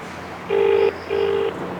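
Two steady electronic ringback tones sound in sequence with a short gap between them, clear and close over faint background noise.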